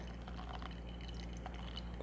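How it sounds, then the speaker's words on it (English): Water trickles in a slow, steady pour over coffee grounds during home brewing, a faint continuous liquid stream close by. "Then let's just have a slow and steady pour"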